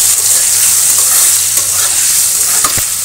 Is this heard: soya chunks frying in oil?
yes